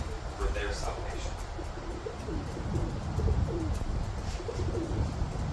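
Pigeons cooing nearby, with repeated soft, throaty coos rolling on and off through the clip, partly under a man's speech and a steady outdoor background.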